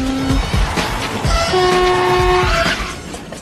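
A train rumbles past with rhythmic clacking of wheels on rails, and a horn sounds a few sustained tones over the noise.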